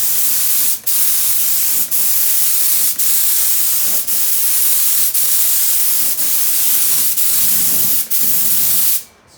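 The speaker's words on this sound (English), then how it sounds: "Using the sprayer." A paint sprayer sprays Dixie Belle chalk paint onto furniture in long continuous hissing bursts, each broken by a short click or pause, loud and close, with the spraying stopping at the end.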